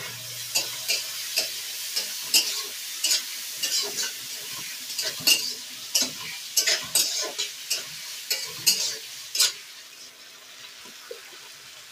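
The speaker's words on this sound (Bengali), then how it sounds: "আদা রসুন আর এই পেঁয়াজটা একসঙ্গে ভেজে নেব" Ginger garlic paste and onions frying together in a pan, a steady sizzle broken by repeated scraping stirs at close range, with no talk.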